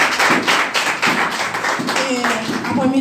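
A church congregation claps hands in steady, rhythmic unison, loud and close. A voice joins faintly under the claps near the end.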